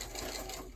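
A sewing machine stitching at speed, a fast, steady mechanical whir and needle rattle, loud and close for under a second.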